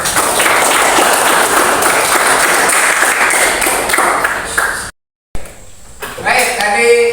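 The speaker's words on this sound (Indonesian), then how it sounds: "beri tepuk tangan dulu" A class of students applauds after a group presentation, dense sustained clapping for about five seconds, then a brief gap and a teacher's voice speaking.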